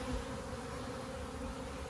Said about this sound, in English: but bees are walking in to the bee escape as well